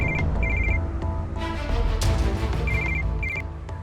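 A mobile phone rings in repeated short electronic bursts of tone, loud and close, over a low background hum in a hotel room drama scene.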